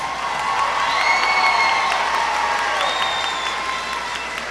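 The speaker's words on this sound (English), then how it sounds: "Please give our honor graduates a round of applause." A crowd at a high school graduation applauds its honor graduates, a steady, distant wash of clapping with whoops and cheers rising above it throughout.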